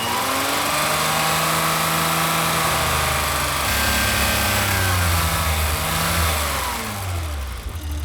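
A BMW engine idles while water is run through its intake, holding a loud steady drone with shifting tonal pitch that rises and falls slightly, as if revs waver, alone without voices.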